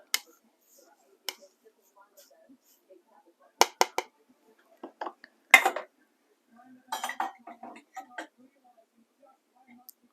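Smoked salmon frittata ingredients stirred in a bowl, heard as sparse, close clinks and scrapes of a utensil against the dish, spaced out between quiet gaps while someone talks.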